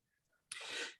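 A single sharp sneeze bursts out close by after a near-silent pause, loud and breathy, lasting about half a second before cutting off.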